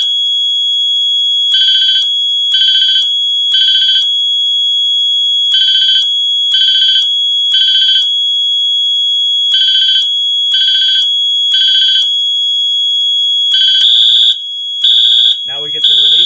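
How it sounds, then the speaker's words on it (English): A Fenwal 3220 halon fire suppression system sounds its general alarm on the first zone in repeating groups of three loud, high beeps, then switches to a faster pattern of tones near the end. "So we have general alarm again on the first zone,"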